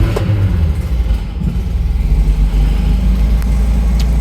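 A classic Fiat 500 engine runs at close range, a steady low mechanical rumble with a few rising revs and no voices.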